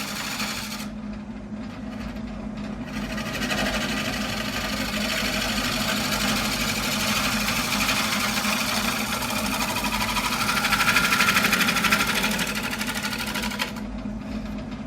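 A wood lathe turns an ash bowl as a cutting tool shapes its surface, giving a continuous whirring motor hum with a steady hissing scrape that swells and eases over several seconds, close and with no talk.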